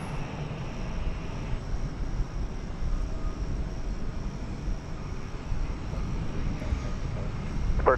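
An American Airlines jet departing DFW Airport gives a fairly faint, steady low engine rumble from some distance, continuous throughout.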